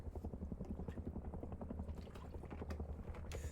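A helicopter in a survival video game, heard as a low, rapid rhythmic rotor chop that stays steady and faint throughout, with no voices.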